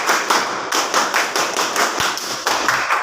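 A school class performs the Indonesian scout clap (tepuk pramuka), a loud, close, patterned series of crisp group claps in rhythmic clusters with brief pauses between beats. No speech is heard.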